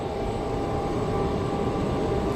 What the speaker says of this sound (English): the jet that's starting up right over there